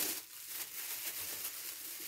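Soft crinkling and rustling of plastic packaging, close by and fairly quiet, with uneven bursts of crackle and no voices.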